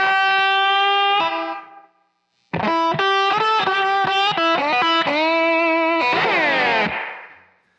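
A slide guitar in open E tuning plays a blues lick, distorted sustained notes with a pause, then a rapid run of slid phrases ending in a long gliding note that fades.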